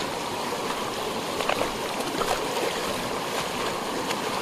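Broad, steady rush of a wide river with a strong current, close and continuous, with faint splashing and lapping on top and no talking.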